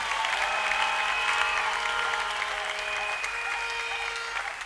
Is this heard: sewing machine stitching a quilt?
no